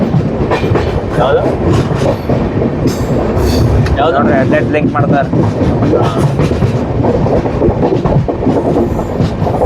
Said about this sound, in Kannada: ಆ ಕಡೆಯಿಂದ ಇನ್ನೊಂದು ಯಾವುದೋ ಟ್ರೈನ್ ಬರ್ತೈತಿ